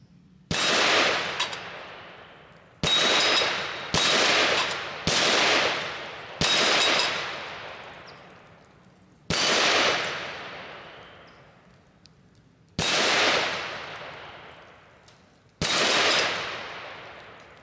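A Radical Firearms RF-15 rifle fires at steel plates: eight loud, sharp shots at uneven intervals, each trailing off in a long, ringing outdoor echo.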